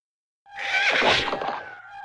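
A horse whinnies in the turn-based strategy game Battle for Wesnoth, one loud, shrill neigh that rises then trails off over about a second and a half.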